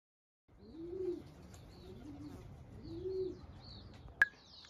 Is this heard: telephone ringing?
no